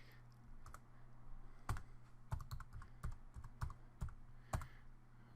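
Keys clack on a computer keyboard as a file name is typed for a drafting project, a run of separate, fairly close taps with short pauses, over a steady low hum and with no one speaking.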